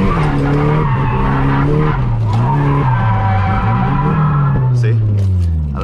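A Nissan S14 drifts with loud, sustained tire squeal that wavers in pitch over the engine note, continuing almost the whole time before fading at the end.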